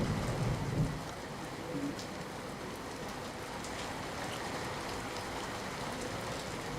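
Heavy downpour falls in Amreli, Gujarat, a faint, even hiss of rain on surfaces continuing without break, with a brief low rumble near the start.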